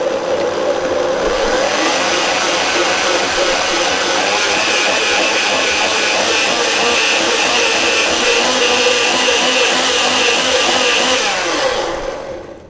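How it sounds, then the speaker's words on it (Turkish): A blender runs continuously at high speed, loud and close, churning a thick pumpkin (squash) drink for about twelve seconds before winding down at the end. "içerisindeki kabak yoğun olduğu için tekrar blender yardımıyla devam ediyorum"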